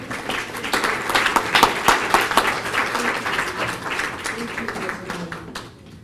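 A conference audience at a symposium on Sufi studies gives a round of applause, with dense, lively clapping that swells and then thins out toward the end.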